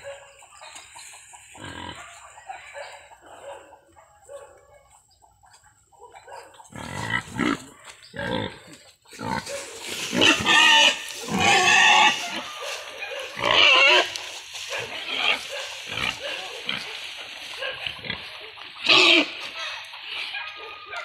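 Fat pigs grunt and squeal in bursts amid farmyard noise as they are walked toward a livestock truck, with chickens clucking nearby and people talking over the animals.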